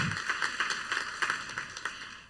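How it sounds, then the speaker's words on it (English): Applause from the audience at a women's charitable giving event, a steady patter of clapping hands that is fairly faint and stays even through a couple of seconds, with no talk over it. "So give yourselves a round of applause on that."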